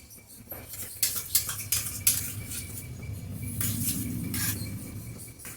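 Sour yogurt goes into a cooking pan while a spoon scrapes and clinks against the bowl, giving several sharp metallic taps followed by a softer wet stirring, close and fairly quiet.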